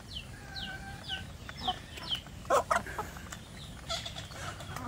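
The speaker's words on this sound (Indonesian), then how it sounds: "ayam kampung saya ini" Free-range village chickens, hens ready to lay, cluck repeatedly close by, with short rising calls and scattered squawks over a noisy farmyard background; no talking.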